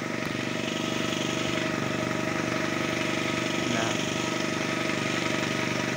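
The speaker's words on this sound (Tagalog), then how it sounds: "Napakita ko lang kung paano magbomba paano gumamit ng aming pambomba" A motorized sprayer pump applying pesticide and fertilizer to plants runs as a loud, close, steady engine drone with a fast mechanical rattle, unbroken for the whole stretch.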